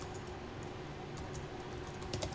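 Soft clicks of a computer keyboard as a keyword is typed, quick taps over a low steady hum, faint and near, with a small burst of keystrokes near the end.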